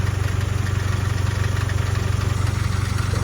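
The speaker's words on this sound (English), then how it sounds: "give it a little rev" Range Rover engine idling steadily with a low, even throb and pulsing rhythm, close up, no clear rev rise, no voices.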